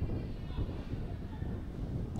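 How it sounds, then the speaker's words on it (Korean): Strong wind buffeting the microphone at a K3 League football match in Cheonan, a loud continuous low rumbling roar with no breaks. "아 바람 소리가 더욱 거세졌어요"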